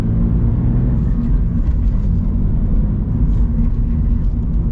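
Engine of a 2024 Toyota 86 manual sports car while driving, a steady loud low rumble with road noise, continuous and unchanging with no talking.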